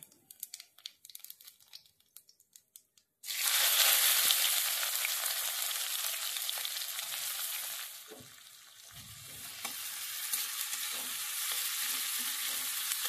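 Chopped onions drop into hot oil with cumin seeds, setting off a sudden loud sizzle after a quiet start, then steady close frying with stirring scrapes and a brief dip in intensity midway.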